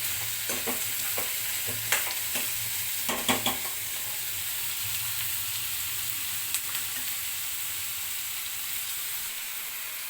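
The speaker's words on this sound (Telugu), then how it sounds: "ఇదే ఎగ్స్ ఫ్రై చేసుకున్న ఆయిల్లోనే వేసేసి ఇలా ఆయిల్లో ఉల్లిపాయ" Onions fry in oil left over from frying eggs for an egg and dried fish curry, giving a steady, close sizzle with a few scattered stirring clicks and scrapes; no one speaks.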